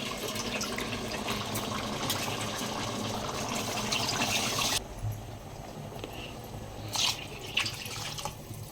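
Water pours into a pot of rice and chicken for biryani, a close, continuous gushing flow for several seconds that stops abruptly, leaving a few faint drips and splashes.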